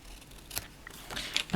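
Scissors make a few short snips while cutting card stock along lines to shape a craft tag, quiet and close.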